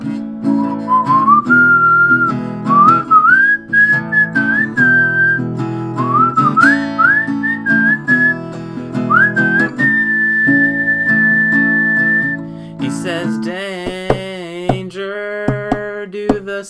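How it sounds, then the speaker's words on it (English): A loud solo whistled melody with sliding, sustained notes over a backing track, ending in brighter warbling phrases. "Whistle solo."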